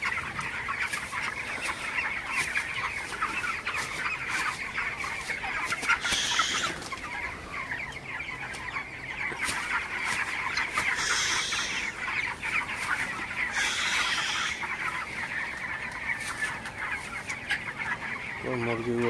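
Broiler chickens, worn down by intense heat, keep up a continuous low clucking and murmuring at close range, with occasional louder calls and some faint talk in the background.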